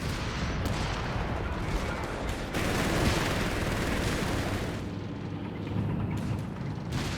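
Sustained artillery barrage in Company of Heroes 3, a dense, continuous roar of overlapping booms and blasts with brief dips around the middle, loud and close throughout.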